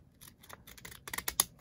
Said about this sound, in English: cut between them with the stamp scissors and actually give the stamp edge